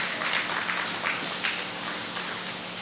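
A steady wash of applause from the audience at a county fair rabbit show, dense and even, with no voices rising above it.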